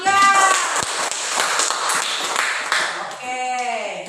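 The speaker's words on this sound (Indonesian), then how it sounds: "Kasih tepuk tangan untuk kelompok 3." In a primary school classroom, pupils clap for a group, with sharp, irregular hand claps and taps, and children's voices calling out at the start and again near the end.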